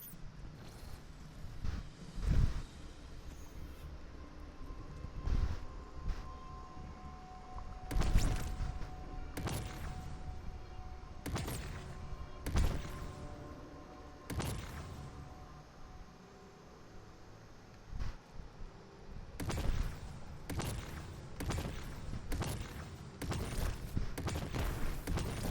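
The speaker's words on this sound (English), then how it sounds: "it's supercharging the cannon." Supercharged cannon firing in the video game Destiny 2, a series of heavy booming blasts at irregular intervals over a rumbling battle background.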